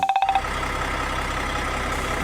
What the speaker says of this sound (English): Tractor nodded and moved into the barn.